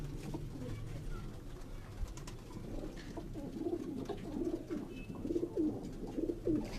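Pearl-marked prince pigeons coo in soft, repeated low rumbles close by, with faint voices in the background.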